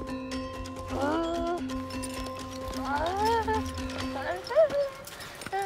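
Horses at a Mongol cultural celebration, with hoofbeats and a possible whinny heard under a continuous narrating voice and steady harmonic tones.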